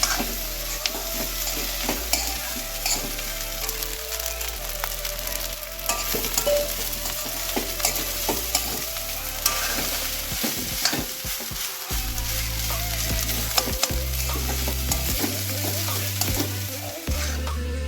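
Rice is stir-fried in a hot pan, a continuous loud sizzle broken by repeated scraping and stirring knocks of the utensil against the pan, with no talking.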